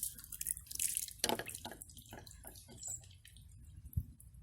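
Water is poured onto mushroom compost potting soil prepared for fig cuttings, giving faint, close wet pattering and soft drips that fade into quiet trickles.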